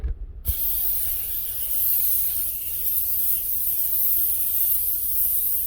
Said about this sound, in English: Non-stick baking spray.